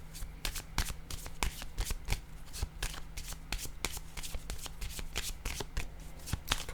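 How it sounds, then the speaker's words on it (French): A deck of playing cards is shuffled and handled up close, giving a dense run of quick, crisp riffling snaps and flicks that continues evenly throughout. "Attendez le temps que je choisisse l'autre jeu de cartes."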